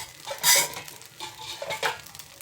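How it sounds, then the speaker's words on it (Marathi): Sizzling scrapes and metallic clinks of a spatula on an iron tava come in a few irregular bursts while a tiffin snack is roasted crisp, with a soft, steady frying hiss between them. "परत असं त्याला दोन मिनिट कडक करून घ्यायचं आहे म्हणजे छान क्रिस्पी बनते"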